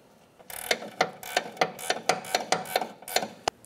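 A ratchet snugging up the sway bar link mounting nut on a 2009-2010 Pontiac Vibe, about a dozen rhythmic metallic clicks heard close and alone.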